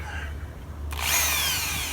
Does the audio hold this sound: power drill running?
yes